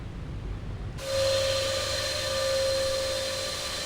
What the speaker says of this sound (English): Engines are very loud on this thing.